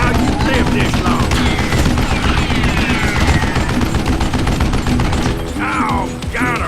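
Sustained shooting in the Western video game Gunslinger, a dense barrage of loud, close gunshots crackling almost without pause, layered with game music and brief vocal effects, before trailing off briefly near the end.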